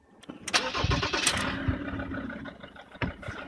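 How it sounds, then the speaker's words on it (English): Ford Ranger 3.2 litre five-cylinder turbo diesel starting up: a short crank bursts into a loud catch, then settles into a steady, rattly idle up close with a small blip near the end. "I'll just start it up."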